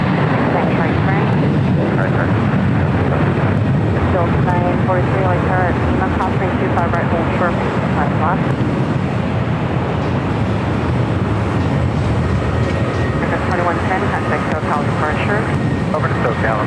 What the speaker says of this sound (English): The A380 cleared for takeoff, and the spacing just a little too tight with that Alaska flight.